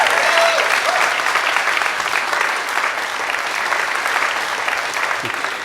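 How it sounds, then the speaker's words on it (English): Loud, sustained applause and cheering from a concert crowd at a show, honoring the venue's owners, a dense continuous roar of many hands close by. "Let's also give Dusty and Renee another round of applause for making this great place."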